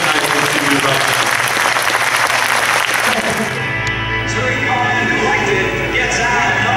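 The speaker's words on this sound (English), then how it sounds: "Big round of applause from the crowd." A crowd applauds at a hall of fame ceremony, dense clapping that fades after a few seconds into a quieter room with lingering sounds.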